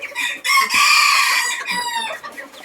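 Bantam chickens in a small fancy flock, including white black-tailed birds, crowing loudly and clucking close by, one long crow followed by a shorter one with no talk.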